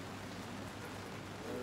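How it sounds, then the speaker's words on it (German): Steady rain falls on a city street in Paris, a continuous soft hiss of drops on pavement, fairly quiet and unbroken, with no voices over it. "Leute, es regnet mir hier viel zu viel."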